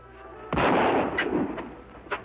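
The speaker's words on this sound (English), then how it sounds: "Who's shooting?" Gunfire in a 1950s Lone Ranger western episode: a single loud, booming shot with a rolling echo, followed by a few fainter, softer pops and knocks, and no speech.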